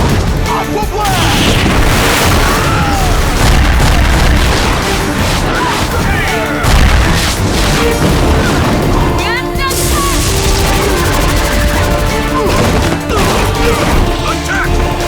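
Cartoon water-blast attacks from a fantasy battle, with booming, crashing explosions piling up continuously for fifteen seconds, loud and dense throughout, over a busy action soundtrack with shouted voices mixed in.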